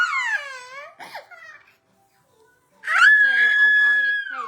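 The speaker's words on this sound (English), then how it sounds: "Nobody wants to hear you screaming." A young child shrieks and babbles loudly near the microphone, a shrill sustained squeal rising after a short silence, with earlier wordless vocalizing.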